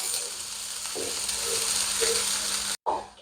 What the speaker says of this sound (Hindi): तो देखिए यहाँ पर हमारा जो प्याज है वो फ्राई होना स्टार्ट हो गया है।